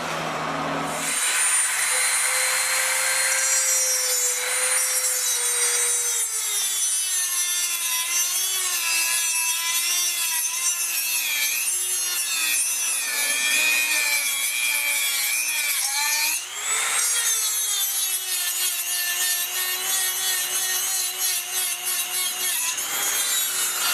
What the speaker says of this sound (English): We're going to cut the chain off with the Dremel because the original stock chain is riveted.